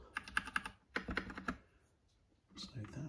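An Epomaker Bloodshot mechanical keyboard clatters with two close bursts of crisp key clicks, a short pause, then a softer shuffle of handling.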